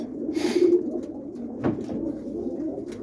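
Young roller pigeons coo softly nearby in a loft, a low throaty call near the start followed by a brief rustle or flap.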